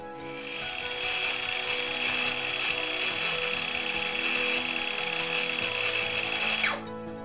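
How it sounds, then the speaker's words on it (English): A circular saw fitted with a 24-tooth carbide blade trims Duralife deck boards along a chalk line, a loud, steady high whine of cutting that holds for several seconds and then spins down at the end. "trim using a circular saw with a 24-tooth carbide blade"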